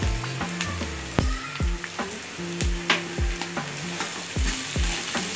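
Shredded cabbage fries in a pan for restaurant-style soybean chilli, a soft sizzle broken by repeated sharp clacks and scrapes of a spatula stirring, close by with a fairly even rhythm and no talking.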